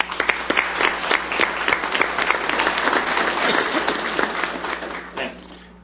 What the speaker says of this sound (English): I would ask that you give all of yourselves a round of applause for what you do